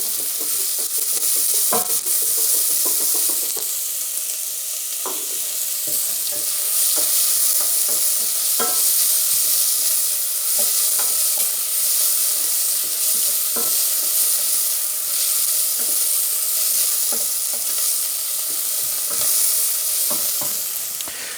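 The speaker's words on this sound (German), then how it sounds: "Dann kommt die Zwiebel mit dem Lorbeerbrat rein. Wir schwitzen das Ganze ein bisschen an." Onion and bay leaf sweat in a little oil in a pan for a barley soup, giving a steady loud sizzle with scattered stirring scrapes and clicks throughout, no voices.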